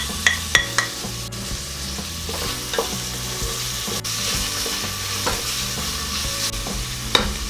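Garlic and onion sautéing in a pan for kansi, a continuous close sizzle broken by stirring scrapes and a few sharp utensil clicks against the pan.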